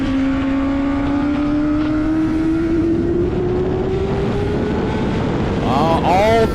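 Racing motorcycles on the front straightaway of a circuit race pass with a loud, sustained engine whine that rises steadily in pitch, heavy wind rush around it and a brief burst of revving near the end.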